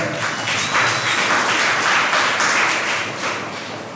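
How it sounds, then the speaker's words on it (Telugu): A congregation at Sunday Mass claps loudly and continuously in a dense, roomy wash of applause that holds steady for several seconds before easing slightly. "చేతులు తీసుకొచ్చిన వాళ్ళందరూ గట్టిగా చప్పట్లు కొట్టాలి"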